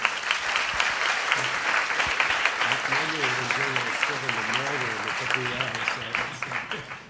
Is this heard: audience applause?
yes